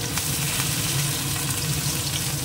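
Cauliflower frying in hot oil in a wok gives a steady, even sizzle and hiss with a low rumble beneath, close by and continuous, with no voices.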